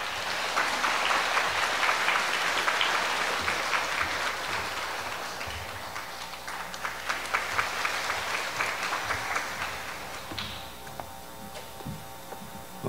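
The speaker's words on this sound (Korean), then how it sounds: "큰 박수로 맞아주시기 바랍니다" An audience at a university admissions lecture claps steadily to welcome a speaker, a dense, continuous round of applause that gradually thins and fades toward the end.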